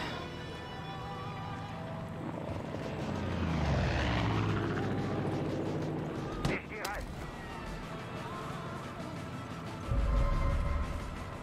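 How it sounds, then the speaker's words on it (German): Aircraft passing overhead in the video game Far Cry 5, a propeller drone that swells and fades, with a sharp impact in the middle and game sounds and talk throughout. "Das sind die Flugzeuge."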